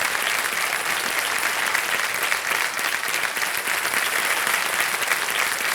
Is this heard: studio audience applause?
yes